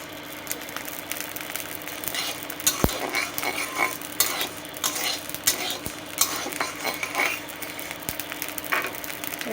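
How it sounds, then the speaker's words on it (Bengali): Rice grains fry and puff like puffed rice in a pan over a village cooking fire, with a steady crackling sizzle, stirring scrapes and scattered sharp pops, and no voices. "মুড়ির মতন ফুটছে, মুড়ির কটা চালে যে মুড়ির মতন হয়ে যাচ্ছে"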